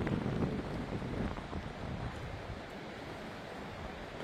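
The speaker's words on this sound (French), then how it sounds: "Le bruit qui fait le vent c'est infernal" Strong gusting wind roaring through a park during storm Benjamin in Isère, a broad continuous rush buffeting the microphone, loud at first and easing slightly, with no talking.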